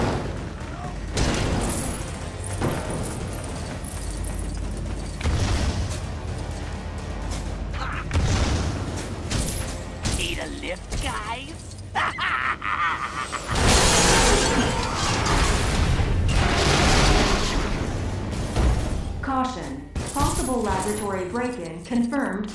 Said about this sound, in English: Confirmed by big explosion.